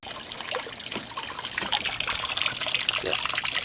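A water and coolant mix drains and splashes from a car's cooling system during a flush with a fast flush kit, a continuous trickling and spattering stream up close that grows slightly louder, with no talking.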